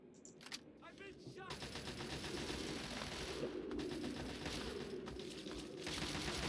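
Rapid automatic gunfire in the video game Fallout 3, a fast submachine-gun-like chatter that rattles steadily for several seconds, fairly faint and mixed with game noise, with a voice talking over it.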